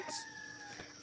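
A farm chicken gives a brief cluck near a water trough, a short sharp call followed by a fainter second note, with a steady tonal hum running underneath.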